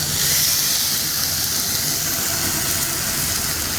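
An entrecote steak sizzles hard in a hot cast iron pan over high heat, a loud, steady, hissing roar that holds without a break.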